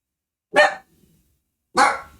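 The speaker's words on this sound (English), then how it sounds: "Hush, dog." A dog barks twice, close and loud, with two sharp single barks about a second apart and silence between them.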